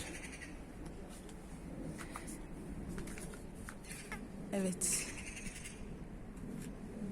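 Birds call faintly across a terrace garden at around seven in the early morning, scattered short chirps over a steady outdoor hiss, with a brief louder call near the end and a single short spoken word.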